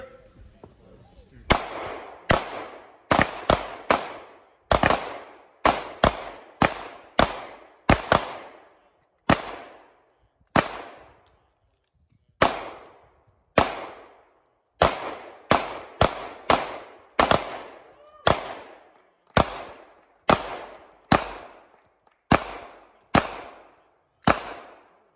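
Gunshots ring out at an outdoor mountain-games shooting competition, sharp single cracks fired in irregular clusters and spaced singles, loud and near with brief echoing tails, while a voice calls out between shots.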